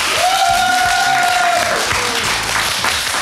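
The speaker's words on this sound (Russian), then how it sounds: "Аплодисменты Евгению Леснику." A studio audience on a comedy talk show applauds loudly and steadily, with some cheering mixed in, while a short musical sting with a bright sustained tone and a pulsing bass plays over the clapping.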